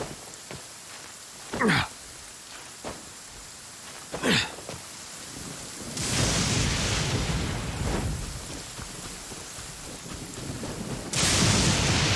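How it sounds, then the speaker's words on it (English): Heavy rain and thunder in Genshin Impact: a steady downpour with two sharp, loud thunderclaps early on, then stronger rain surges that swell and drop under the storm. "This heavy rain must be quite an inconvenience for you."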